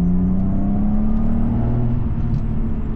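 A BMW 850CSi V12 accelerates hard with traction control switched off, its deep engine drone climbing steadily in pitch, loud and close from inside the car, with no talk over it.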